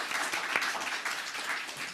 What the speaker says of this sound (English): I would like us to give a very big clap to Chris Kennett for all his amazing work